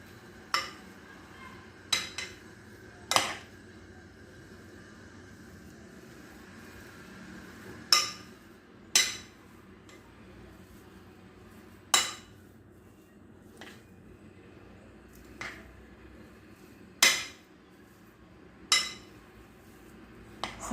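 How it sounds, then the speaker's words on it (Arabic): A pastry filling being mixed in a bowl, heard as sparse, sharp clinks of a utensil against the bowl at irregular intervals over a quiet background. "وغادي نخلط مزيان تيتعلق لي هادشي"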